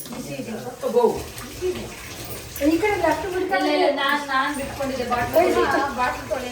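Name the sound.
hot water running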